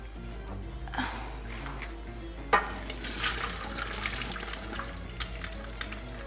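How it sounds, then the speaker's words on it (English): Water drains from a cooking pan of boiled potatoes in a kitchen, a steady low splashing pour with a few sharper clatters of the pan, fairly quiet and with no talking. "We're going to drain the water out of the dish,"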